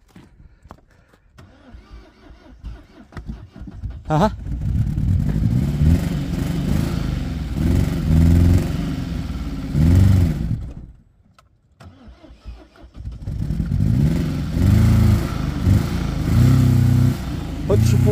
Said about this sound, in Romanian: când mai pornește, gata, o lua foc motorul.